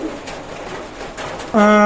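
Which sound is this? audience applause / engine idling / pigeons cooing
pigeons cooing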